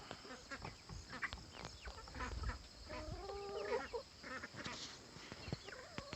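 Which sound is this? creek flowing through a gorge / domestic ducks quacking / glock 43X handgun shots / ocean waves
domestic ducks quacking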